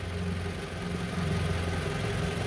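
A Toyota RAV4 engine idles in park after a transmission fluid change. It makes a steady, even hum with low vibration and no talking.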